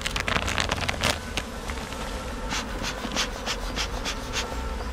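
Honey bees buzzing around a beehive near Chartres during a smoked hive inspection: a dense, close hum with individual insects zipping past the microphone, steady and unbroken for a few seconds with no voices.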